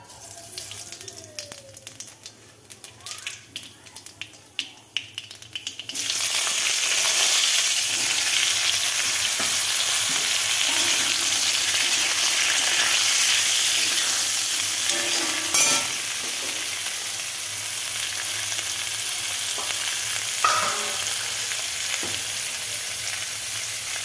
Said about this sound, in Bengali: তেল গরম হয়ে গেছে, তেলের মধ্যে কালি জিরা,